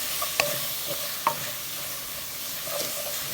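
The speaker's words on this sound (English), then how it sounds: "Allow this to cook along with the onions." Onions frying with ginger garlic paste in a pan for a chicken tomato curry, a steady soft sizzle broken by a few sharp clicks of a spoon stirring against the pan, with no talking.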